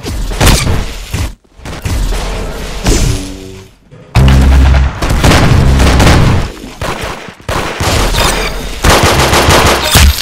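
Rapid automatic gunfire from Roblox Arsenal rattles in loud bursts with booming shots, brief gaps between volleys, and dense layered firing that fills the moment close and harsh.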